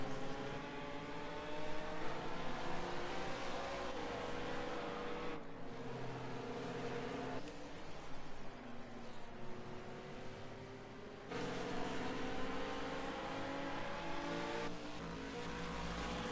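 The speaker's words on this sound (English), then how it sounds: "Side by side now goes the BMW, trying to get past Bruno." Racing cars including a BMW roaring past at Le Mans, loud sustained engine drone with shifting pitch as several cars pass by in succession.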